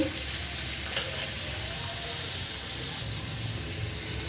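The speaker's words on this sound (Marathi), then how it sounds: "इथे आपल्या या भाज्या मिक्स करून घ्यायचे आहे छान आणि यामध्ये आपल्याला मीठ घालून घ्यायचं आहे" Vegetables being stirred with salt in a frying pan for a rustic village-style Bhogi mixed vegetable dish, giving a steady close sizzle and hiss with a few soft scraping stirs, no talking.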